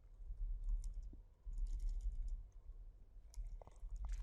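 Quick, light taps on a computer keyboard come in short bursts with pauses between them, heard close up and fairly quiet while text is typed into an HTML file.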